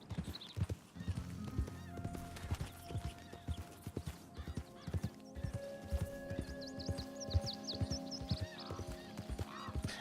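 Rhythmic hoof clip-clops from a ridden horse in Red Dead Redemption 2, with an occasional whinny and rattling tack over a soft outdoor ambience.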